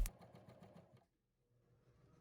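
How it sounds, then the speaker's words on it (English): A cover stitch serger sews bias tape, running in a fast, close, rhythmic mechanical chatter for about a second before stopping, leaving a faint hum. "I'm using my cover stitch serger for this"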